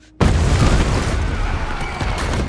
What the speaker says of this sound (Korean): 그 순간 헝거게임을 반대하는 반군들의 폭탄 테러가 시작됩니다.